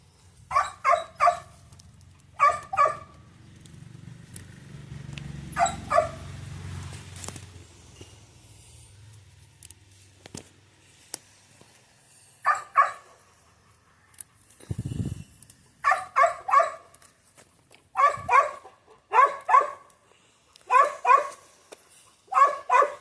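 A dog barks in short repeated bursts, fairly close and loud, with quiet gaps between volleys and no talking.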